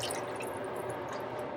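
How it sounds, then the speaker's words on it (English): Broth is poured into an emptied can of crushed tomatoes while cooking a sauce, a faint, steady liquid splash and trickle lasting under two seconds, with no talking. "I'm going to pour the broth in the can to get the rest of the tomato stuff out"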